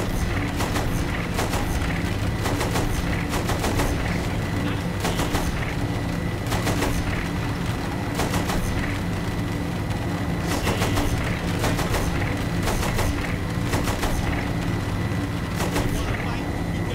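Machine gun fire in Saints Row The Third, repeated short loud bursts in a steady rhythm over a constant roar of engine and battle noise throughout.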